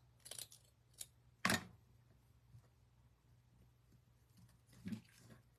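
Scissors snipping off material for a bunny pot craft, a few faint sharp cuts with one louder snip, close by in a quiet room.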